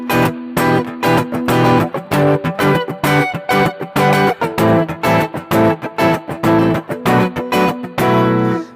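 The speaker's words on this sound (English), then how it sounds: "listening to that between trying to strum all the strings" An electric guitar strummed across all six strings, giving fuller, thicker chords with more low end, played in a brisk rhythmic pattern with choppy muted breaks, close and loud, finishing on a sustained ringing chord.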